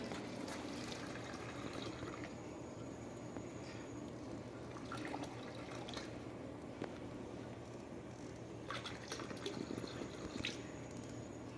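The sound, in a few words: pouring about 1,500 ml of liquid while brewing cherry wheat beer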